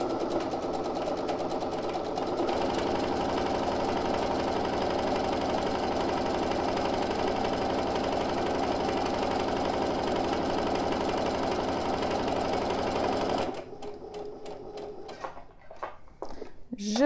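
A sewing machine stitches a seam on a pincushion, 2–3 mm from the earlier seam, running in a steady, close, mechanical whir for about thirteen seconds before stopping. Light handling noises follow, and a voice speaks over it.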